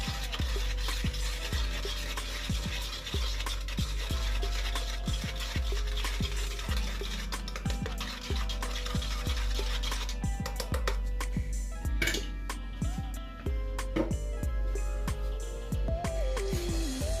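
An old toothbrush stirs and rubs through a loose paste in a steady series of quick scratchy strokes, close and fairly loud with a slight wet sizzle and no talking.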